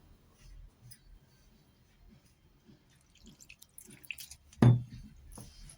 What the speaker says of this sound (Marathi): पाणी टाकून पीठ मळून घेऊ